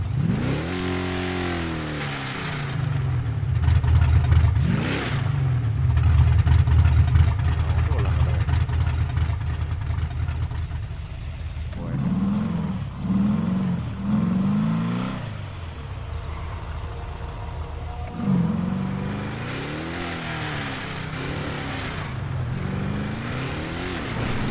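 A Chevrolet Monte Carlo V8 in GTA 5 starts and revs, loud rising and falling engine sweeps in bursts with idling between, under someone talking.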